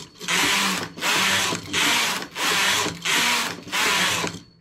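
A domestic knitting machine carriage is pushed back and forth across the bed knitting rows at tension setting 5, making six loud, even whirring, ratcheting sweeps with short pauses between them.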